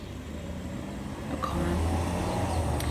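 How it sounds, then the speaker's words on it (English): A single car passes at a moderate distance, its low engine and tyre rumble swelling midway and holding steady under a faint background hum, with no voices. "a car."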